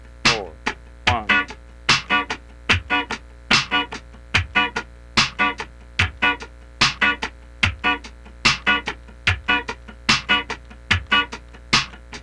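Funk rhythm guitar played alone, crisp muted upstrokes landing on the second sixteenth note of each beat, a steady evenly spaced pattern of short bright strums up close over a faint background hum.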